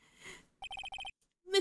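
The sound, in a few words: phone ringtone in Ace Attorney video game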